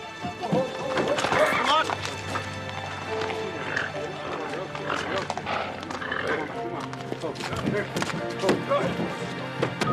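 Racehorse hooves clatter and thump while the horse is loaded into a trailer, irregular knocks and scuffs heard close, with a voice talking over them and faint music underneath.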